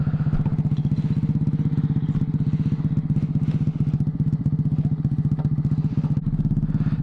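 A Honda ChopT70 mini bike runs steadily while being ridden around a block, its small engine giving a fast, even thumping drone. The sound is close and constant, with no talking.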